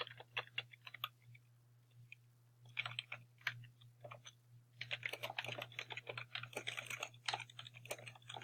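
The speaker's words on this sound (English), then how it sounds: "Type in the name of the bookmark." Keys clatter on a computer keyboard in irregular bursts of quick, close taps, with short pauses between runs, over a faint steady low hum.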